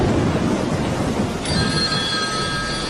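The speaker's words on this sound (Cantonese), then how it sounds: "有電話都冇人聽嘅，邊鬼哥打過嚟啊？" An old-style telephone bell rings loudly and continuously amid a rainstorm scene, the ring becoming clear and sustained after a moment over a dense rainy background.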